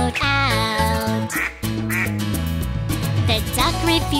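Cartoon duck quacking in a kids' show, a few loud nasal quacks set against steady, busy background music that continues throughout.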